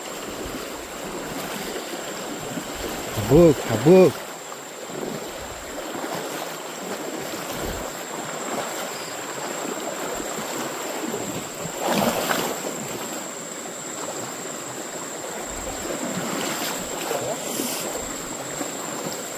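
Steady rushing of a river in the Konkan flowing over rocky bedrock, a continuous broadband wash of water heard close, with a brief human voice and a few short thumps partway through.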